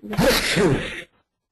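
A single sharp sneeze, loud and close, bursting out and cutting off abruptly into silence.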